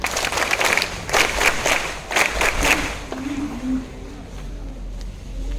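A school crowd at an Independence Day celebration claps together in a burst of applause that fades after a few seconds, leaving a low background rumble.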